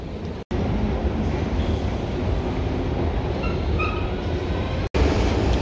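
A Berlin public transport train pulls out of a station, a steady loud rumble of wheels and carriage noise rolling on without pause, with faint higher squeals near the end.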